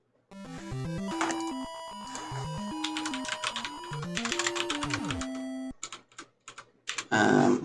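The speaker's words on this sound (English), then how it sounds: "one sec, I'm typing a message to a friend here" Computer keyboard keys click in quick bursts alongside bright, stepping chiptune melodies from a Mario-style game, with the clatter of typing standing out most clearly near the end.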